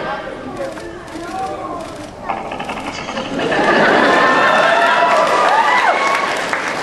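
A voice imitates cartoon platypus chatter, a rapid, rattling, loud and close noise, while crowd noise and clapping swell behind it at a convention panel.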